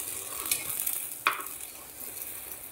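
Bhagar appe sizzle softly in an appe pan while being flipped, a quiet steady hiss broken by a couple of brief scraping clicks.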